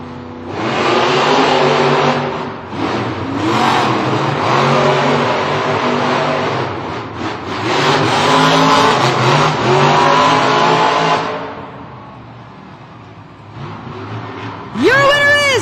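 Monster trucks race in an indoor stadium arena in Louisville, their engines roaring loud and steady with surging revs that fade near the end before a sharp rising squeal.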